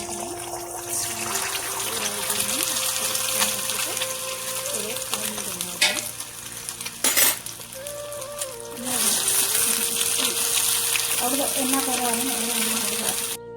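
Noodles with black pepper stirred and tossed in a hot pan, a steady close sizzle with scraping stir strokes, a brief louder clatter midway, and someone talking over the cooking.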